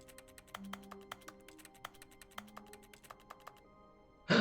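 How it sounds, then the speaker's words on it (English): Keyboard typing sounds triggered by interacting with a picture in The Stanley Parable video game: a quick, irregular run of sharp key taps over a faint tonal hum, ending in a brief loud burst. "Why does interacting with the picture make keyboard sounds?"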